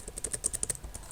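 Quick run of keystrokes on a computer keyboard, about a dozen light close clicks in steady rhythm with no talking.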